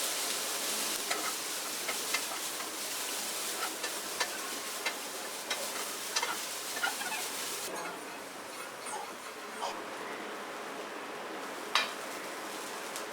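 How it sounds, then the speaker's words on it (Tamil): Broad beans and lentils for paruppu usili get stirred in a pan under a steady hiss of frying, with light scrapes and taps of a spoon against the metal scattered throughout. "நல்லா இந்த மாதிரி கிண்டி விட்டு அப்புறம் இறக்கிடலாம்"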